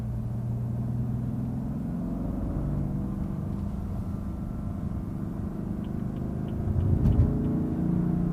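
A steady car engine hums at a low, even idle, swelling briefly louder near the end before settling back; the engine sound is artificially generated.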